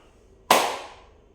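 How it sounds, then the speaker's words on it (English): A single sharp hand clap, close and clean, with a bright snap and a short decaying tail against near silence. "when you need to clap"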